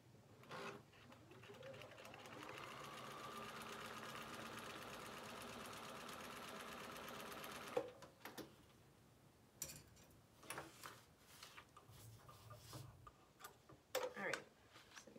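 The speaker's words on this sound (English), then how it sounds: "Just binding a quilt." Sewing machine stitching binding onto a quilt, a steady close whirring run for about eight seconds before it stops, followed by scattered handling clicks and rustles.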